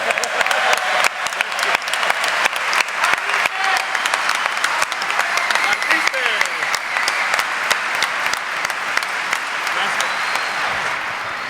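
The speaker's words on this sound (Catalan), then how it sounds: "que us aplaudeixin, estan aquí dalt l'escenari" Audience applause at a Catalan national event, a dense, loud, steady clapping from a crowd welcoming performers on stage, sustained throughout with no break.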